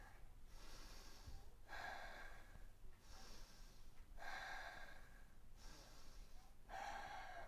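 Slow, deep breaths during a yoga pose, faint and close, with four long exhales whooshing at an even rhythm about every two and a half seconds, and no talking.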